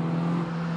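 Modified Peugeot 206 S16 engine humming with a steady low drone, close and continuous for under a second.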